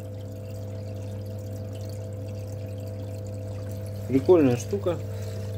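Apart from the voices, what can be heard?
HJ-550 water pump pumping water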